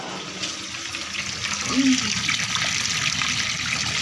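Water trickles and splashes steadily from a deep-well pump pipe, with a constant broadband gush and a brief louder burst midway.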